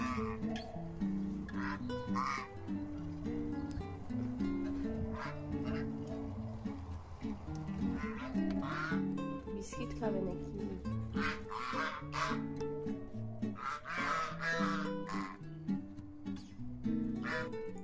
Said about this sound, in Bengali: আর এখানে সব রাজহাঁসগুলো চলে এসেছে।